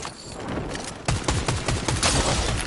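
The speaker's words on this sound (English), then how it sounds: "Oh my god, why is he going shooting at me?" Rapid bursts of close, loud automatic gunfire in a video game firefight, with someone shooting at the player in quick repeated volleys that grow denser toward the end.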